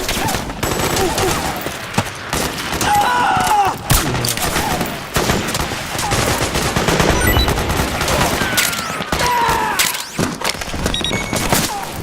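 Dense, sustained automatic gunfire with overlapping bursts and impacts from Metal Gear Solid 4: Guns of the Patriots on PS3, loud and nearly continuous throughout, with brief shouts now and then.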